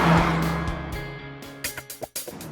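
A 2014 Mazda 3 drives past, loud at first and fading as it goes, followed by a few short sharp bursts of sound near the end.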